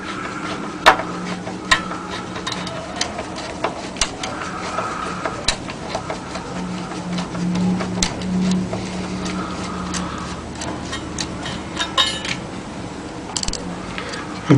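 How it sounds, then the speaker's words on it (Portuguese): Screws are removed from the case holding a power transformer, giving scattered sharp metallic clicks and ticks over a steady low hum, with occasional louder knocks. "Vamos tirar os parafusos."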